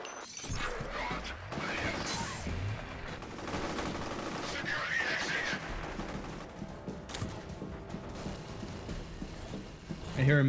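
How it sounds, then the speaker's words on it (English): Sustained rapid gunfire and shattering crashes from a minigun battle in the shooter game F.E.A.R. Perseus Mandate, a dense continuous barrage with breaking debris and voices over it. "I hear a minigun."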